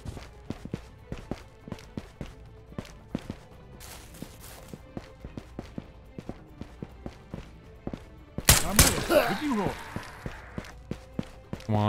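Footsteps in the Ghosts of Tabor VR shooter, a long run of evenly spaced sharp thuds across about twelve seconds, then a louder scuffling burst near the end.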